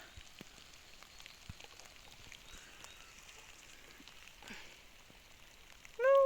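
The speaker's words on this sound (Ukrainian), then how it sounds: "дощ капає" Rain dripping outdoors in a flower garden, faint scattered drops tapping over quiet background, ending with a brief clear bird-like chirp.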